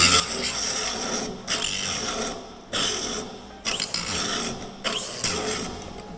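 An older-model Bosch 18V cordless angle grinder grinding under heavy load, a loud continuous rasping whine broken by a few brief dips where the motor bogs and recovers, with no talk.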